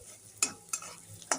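Minced onion and garlic frying in a pan, with three sharp scraping stirs over a quiet, close sizzle and no voices.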